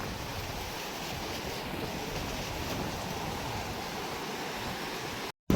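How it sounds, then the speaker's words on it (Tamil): Rough sea surf churns along the Jaffna shore in a constant, dense wash of noise, with wind buffeting the microphone and no voices, cutting off abruptly near the end. "கடலில் வந்து கொந்தளிச்சு கொண்டு இருக்குது"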